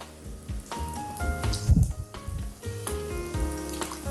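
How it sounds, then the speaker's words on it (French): Egg-coated fennel browning in a pan for an Algerian dish, giving a steady crackling sizzle with brief louder spits, heard beneath continuous background music. "Et on va le faire dorer."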